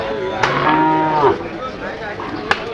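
A cow at a cattle market in Sylhet gives one long, loud, close moo, followed by faint market background noise and a couple of brief knocks.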